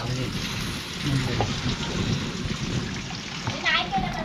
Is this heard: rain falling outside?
yes